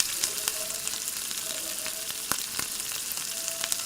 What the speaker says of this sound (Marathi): जरा पूर्ण चांगले परतून घ्या, म्हणजे कोथिंबीर पण सोयाबीनला चांगले लागेल.